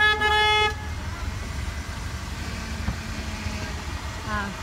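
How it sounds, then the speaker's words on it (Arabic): A car horn gives one short, loud honk at the start, followed by outdoor street noise with engine rumble and a faint distant horn near the end. "سمعت كلاكسون تاع اللوطو"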